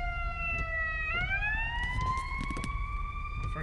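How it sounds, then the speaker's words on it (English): A wailing ambulance siren sweeps up and down in pitch as it draws past during a winter storm, steady and moderately loud over road noise. "There's an ambulance coming."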